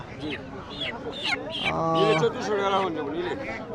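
Chickens and ducks at a busy rural riverside market give several close, honking clucks and squawks while people talk loudly over them.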